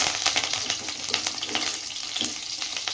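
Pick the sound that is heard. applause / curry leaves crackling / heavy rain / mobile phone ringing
curry leaves crackling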